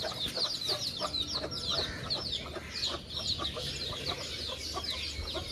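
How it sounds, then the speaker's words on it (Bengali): Desi hens clucking repeatedly in quick, busy bursts, several birds close by, with occasional higher cheeps of newly hatched chicks mixed in and no talking. "দেশি মুরগি"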